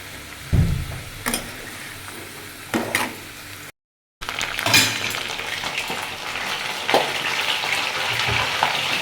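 Potatoes frying in a pan in a home kitchen for a vegetarian white aloo dum: a steady close sizzle with occasional scraping clinks of stirring, broken once by a brief silent gap.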